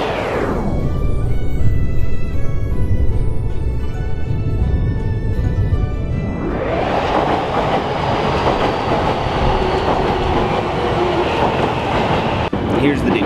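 A train in Japan rumbles loudly along the rails, with a rising roar as it picks up speed and a constant rolling clatter, heard from inside.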